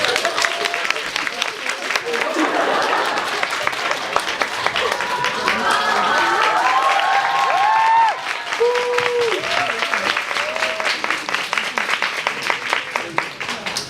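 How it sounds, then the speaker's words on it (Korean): Theater audience applauds as the director and actors come on stage for a post-show talk, a long sustained round of clapping with a host's voice speaking over it partway through. "자, 박수 부탁드립니다"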